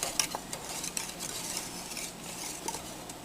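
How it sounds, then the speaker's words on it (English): A whisk stirs thickened lemon pie filling with sugar in a pot, a close, continuous scraping swish with quick metallic ticks against the pot's sides. "you add in your ½ cup of sugar and keep whisking it."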